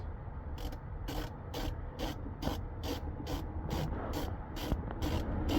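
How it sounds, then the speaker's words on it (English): T20 screws being removed from a 4-inch speaker in a 2025 Jeep Gladiator: a steady, evenly spaced run of about a dozen ratcheting clicks over a constant low background hiss, close and moderately quiet. "for the 4-inch speaker, the screws coming out are T20s"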